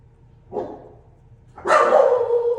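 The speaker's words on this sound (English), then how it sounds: "my dog is barking" A dog barks twice nearby, a short bark followed a second later by a louder, longer one.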